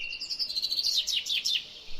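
A small bird chirps in a quick series of high bright tweets, close and clear over a faint background hiss, with no voices.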